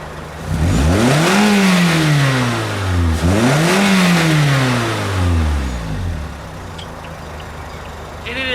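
A Pontiac Vibe engine fitted with an HPS performance intake revs loudly as the car makes a quick pass, rising and falling twice in strong accelerating sweeps before settling to a steadier drone, with a voice faintly underneath.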